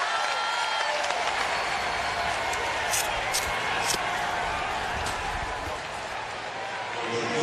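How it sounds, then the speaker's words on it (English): Arkansas Razorbacks fans at a College World Series baseball game against Oregon State give a loud, sustained round of applause and crowd noise that fills the whole stretch, with talk over it. "a loud round of applause here from the Arkansas fans as the Razorbacks get their first hit of the night"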